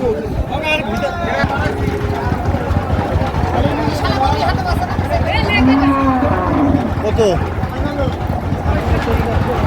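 Improved-breed dairy cows mooing in low, drawn-out calls amid a busy crowd of talking voices and general bustle at a cattle purchase.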